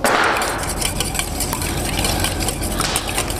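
Steady clinking and scraping of a utensil whisking two eggs in a bowl, continuous and close, with faint background hum.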